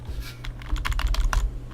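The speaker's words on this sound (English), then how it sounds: "we're typing Japanese" Rapid keystrokes clatter on a computer keyboard in a short burst of close, crisp clicks over a low steady hum.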